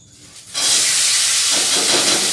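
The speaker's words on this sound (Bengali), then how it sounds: "দাঁড়াও আলু আর পেঁয়াজটা দিয়ে দিই" Potatoes and onions drop into hot oil in a home kitchen, setting off a sudden loud sizzle that keeps hissing steadily, close up and with no talking.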